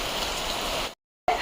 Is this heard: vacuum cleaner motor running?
no